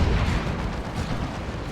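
A unit blows up on death in the Warhammer 40k Dawn of War 2 video game, heard as a dense, rumbling blast that holds steady as a low roar throughout, with no talk over it.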